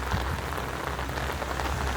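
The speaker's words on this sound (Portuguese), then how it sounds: "até o estatalar da chuva no guarda-chuva faz parte" Steady, dense rain pattering on an umbrella during a nighttime storm in central São Paulo, a continuous close wash of drops with no voices.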